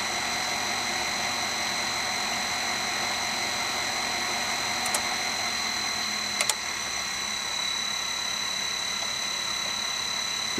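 Swimming pool pump motor running at a lowered speed setting, a steady, even mechanical whine and hum with faint clicks, continuous and close throughout.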